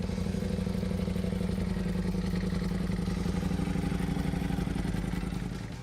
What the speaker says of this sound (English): They ditched the L-twin for a V4 and built the ultimate Italian weapon that sounds like pure violence.